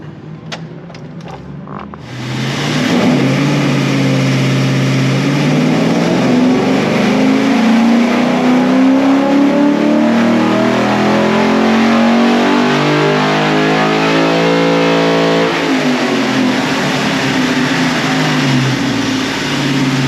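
A Ford 4.6-litre three-valve V8, built with Ford Racing parts, roars on a dyno: after a brief quiet start it climbs into a loud sustained rev, pulls higher, then eases off near the end.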